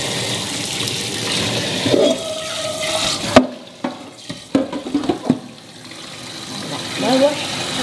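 Water runs from a tap over fruit being washed at a sink, a steady splashing stream that breaks off midway into scattered drips and clatters before flowing again, while a child and an adult talk throughout.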